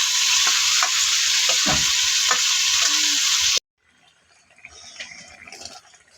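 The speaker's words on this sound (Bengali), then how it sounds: "এবার আমার ভেজে রাখা চিংড়ি মাছটা দিয়ে দেবো।" Fried prawns hit a hot, oily spice masala with a loud continuous sizzle and a few stirring knocks, then the sound cuts to a quiet, muffled stretch.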